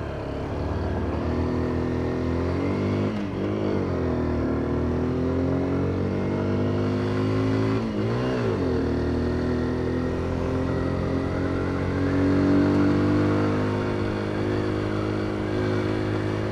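A Kawasaki Z125 mini bike rides in traffic, its small engine giving a steady, close buzzing drone with brief rises and falls in pitch as it shifts and accelerates, continuing throughout with no talking.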